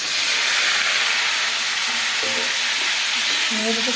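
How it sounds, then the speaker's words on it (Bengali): Flat beans and potato frying in a pan after fish, a steady broadband sizzle with faint stirring scrapes, close and continuous with no talking. "মাছ ভাজা হয়ে গেছে, ওর মধ্যে দিয়ে দেবো সিম আলুটা।"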